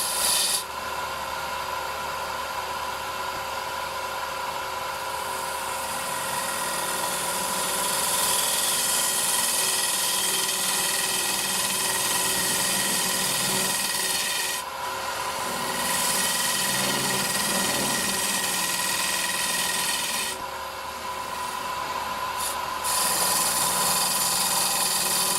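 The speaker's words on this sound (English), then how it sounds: "Moving down to the other end there with the 3/8 gouge, hogging out some of the timber." Timber spins on a wood lathe while a 3/8 gouge hogs out wood, a continuous hissing, rasping cut over the motor's hum, broken by two brief pauses before the cutting resumes.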